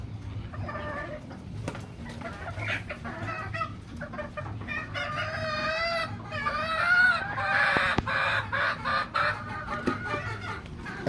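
Chickens cluck and chatter together at feeding time, a busy flock of overlapping calls near and far with an occasional rooster-like cry rising above the steady clucking.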